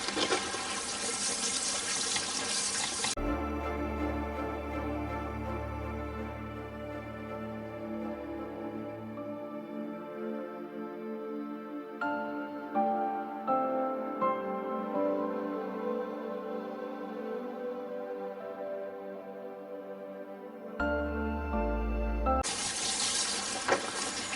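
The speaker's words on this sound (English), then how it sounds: "I might as well just use continuous water" Tap water runs steadily into a sink, a continuous splashing rush that holds at an even level throughout with brief changes in tone.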